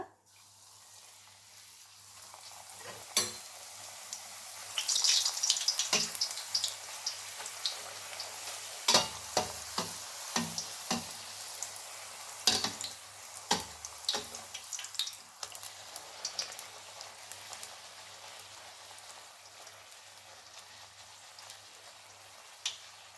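Puris, or bhatura, deep-fry in hot oil with a steady, quiet sizzle. Sharp crackles and spatters pop through it at irregular intervals, heard close with no speech.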